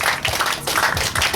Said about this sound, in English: give yourselves a round of applause for being such an incredible team.